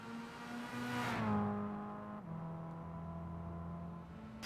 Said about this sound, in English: That isn't weird engine noise.